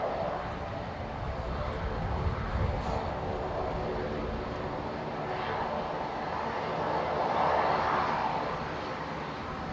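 An aircraft engine rumbles and roars at Brisbane Airport, a broad steady drone that swells slightly as it passes, with people talking over it.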